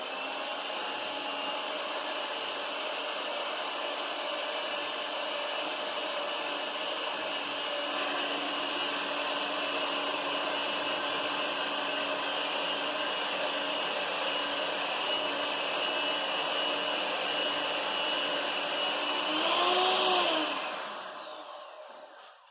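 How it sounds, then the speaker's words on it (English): An electric stand mixer whirs steadily, beating the wet ingredients for keto trash cookies in a small home kitchen: a continuous, fairly loud motor drone for about twenty seconds that swells slightly, then winds down and stops. "I have to turn around over here to my mixer just to mix this up quickly"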